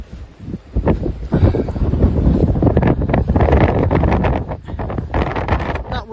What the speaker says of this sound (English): That wind is nearly blowing me off the bridge now.